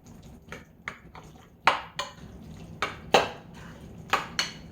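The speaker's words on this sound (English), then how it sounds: "Stir that up." Tuna salad seasoned with pepper being stirred in a bowl, a series of sharp utensil clinks and scrapes against the dish, irregular and close, with quiet pauses between strokes.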